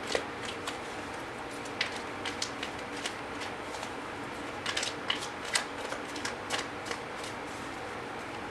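Tarot cards being shuffled by hand, soft papery riffling with scattered crisp flicks and taps at irregular intervals, close and fairly quiet, no voices.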